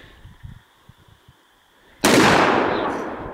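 A single loud gunshot at an outdoor shooting range, a sudden sharp blast with a long decaying roar, after a few soft thumps and handling noises.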